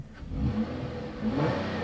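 A car engine with stock exhaust and OEM replacement mufflers revs twice in quick succession, each rise a smooth mid-pitched whir, heard nearby on a foggy day.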